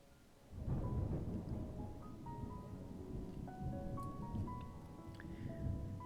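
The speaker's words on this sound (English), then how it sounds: "A loud sound roared as a flash covered the sky. Was that? Lightning had struck somewhere." Thunder from a lightning strike in the game Mamiya breaks in with a sudden deep roar and keeps rumbling like rain, while sustained musical tones drift over it.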